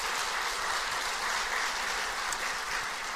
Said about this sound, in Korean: 자, 나오신 분들에서 한번 박수 드리겠습니다.